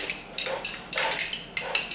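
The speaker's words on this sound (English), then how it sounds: "And just get a spoon and mix it all around." A spoon mixes sweet chilli sauce into yogurt in a bowl, making bright, regular clinks against the bowl about every half second, close and clear.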